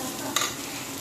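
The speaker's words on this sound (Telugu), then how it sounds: "ఫస్ట్ ఆనియన్స్ వేయించుకోవాలి చూడండి" Onions fry in a pan for a homemade omelet, giving a brief, steady, close hiss of sizzling oil with a single faint scrape partway through.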